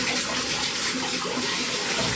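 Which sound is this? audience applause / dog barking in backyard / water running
water running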